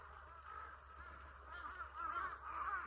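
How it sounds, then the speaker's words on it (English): A large flock of crows flies overhead during a countryside drive in Gunma and Nagano, Japan, their harsh cawing overlapping and swelling louder toward the end against a low background rumble. "That's a ton of crows flying overhead right now."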